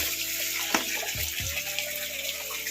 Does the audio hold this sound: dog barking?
no